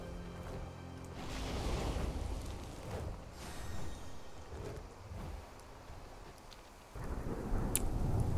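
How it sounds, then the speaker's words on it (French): A thunderstorm rumbles in the World of Warcraft video game, low rolling thunder and rain noise swelling and fading over several seconds, with a louder surge near the end. "Une tempête."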